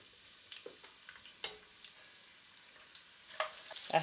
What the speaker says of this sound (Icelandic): við þurfum þetta bara rétt svona að steikja þetta